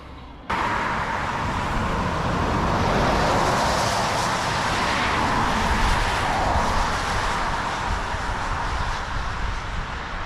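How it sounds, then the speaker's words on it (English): Road traffic rushes past a roadside car camping spot, a steady broadband roar that begins abruptly and swells and fades as vehicles pass by, with no voices. "Just got a bit of traffic going past."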